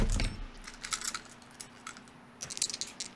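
Small dice rattling and clicking as they are picked up and shaken, a few quick bursts of light plastic clatter, close and fairly quiet, with a low steady hum underneath and no speech.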